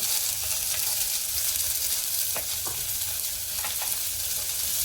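Cumin seeds, chopped garlic and grated coconut roasting in a hot pan for Maharashtrian masale bhat, giving a steady close hiss of frying with a few light scrapes and ticks of stirring throughout.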